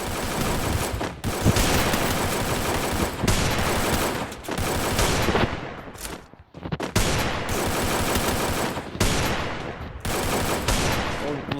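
Dense automatic gunfire and rapid shot bursts from the Free Fire mobile shooter game, loud and nearly continuous with brief pauses, without speech.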